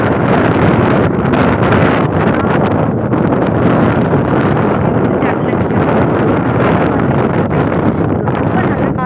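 Strong wind roars steadily and loudly, buffeting the microphone with a constant rushing noise throughout.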